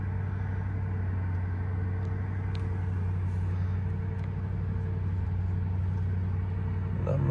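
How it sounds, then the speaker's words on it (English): A 2020 Bentley Continental idles while warming up, giving a steady, even low engine drone with faint mechanical ticks throughout and no talking. "I'll let it warm up just a little, another hair there until those RPMs drop"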